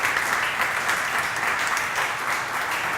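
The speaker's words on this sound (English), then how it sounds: "big round of applause for Wes." Steady, dense applause from a bar audience at a Chicago craft beer talk, a continuous wash of clapping for a speaker named Wes that holds evenly for the whole few seconds.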